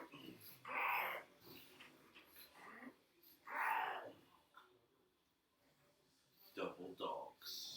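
Dogs lounging close by breathe, wheeze and snort in short bursts separated by quiet gaps, heard up close and fairly faint.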